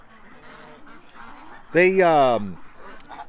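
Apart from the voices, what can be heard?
goose honking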